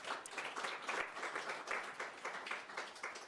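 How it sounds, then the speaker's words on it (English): Audience applause at a literacy day celebration, a steady wash of many hands clapping with no break for the full stretch, moderately distant and fairly even in loudness. "another round of applause."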